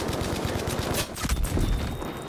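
Rapid automatic gunfire from Battlefield V rattles on continuously and loudly as suppressive fire, with a few heavier thumps partway through and no voices.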